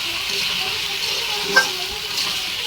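Bottle gourd pieces fry with spices in a pan while being stirred, producing a steady close sizzle with a soft scrape partway through and no talking.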